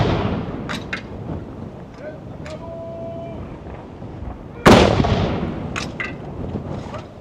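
Cannon salute fired for the Queen's 87th birthday in Norway, one round every five seconds: a sharp, loud blast lands mid-clip over outdoor ambience with people talking, distant reports and echoes before it.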